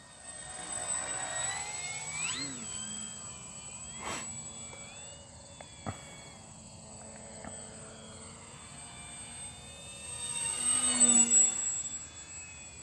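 An FMS Ranger remote control model airplane, 1220mm wingspan, whines faintly in the distance, rising and fading as it passes, with a louder buzzing pass near the end.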